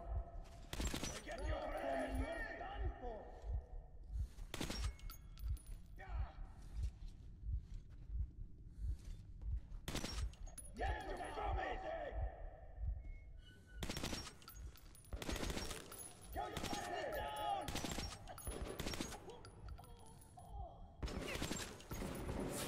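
Shotgun blasts from a video game firefight: loud, sharp, close booming shots repeat steadily across the whole stretch, sometimes in quick clusters, with rumbling game ambience and muffled voices between them.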